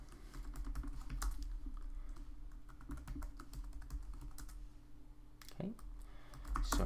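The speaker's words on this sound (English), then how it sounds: "I will enter a password here." A password is typed on a computer keyboard, with a string of crisp, close key clicks in an uneven rhythm over a quiet room hum.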